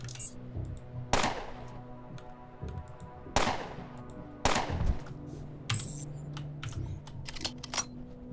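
Gunshots loaded with jacketed hollow point rounds fire in the Underrail video game, three sharp loud cracks spaced a second or two apart among softer clicks and clatter.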